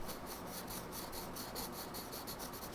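A green pen colouring in a muscle diagram on paper, heard as a steady, faint, close scratchy rubbing with a rapid back-and-forth rhythm and no talk.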